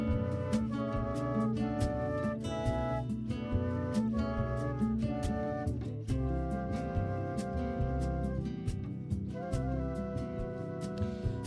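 Layered flute lines play sustained melodic notes over a soft, steady bed of chill music, with light percussive accents throughout and no voices.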